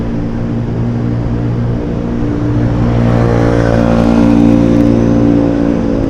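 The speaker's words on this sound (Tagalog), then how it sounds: "Dami talagang motor oh." Many motorcycles move through city street traffic toward San Juan, their engines forming a loud continuous droning roar with revving layers, no voices.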